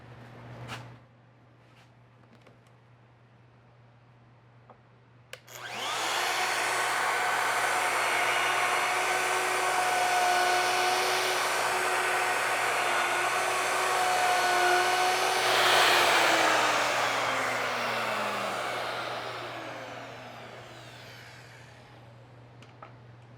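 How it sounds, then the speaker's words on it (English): A handheld router cuts a mortise into a wooden chair leg for loose tenon joinery, spinning up to a loud steady whine for about fifteen seconds, then winding down, with no talking. "let's route the first mortise"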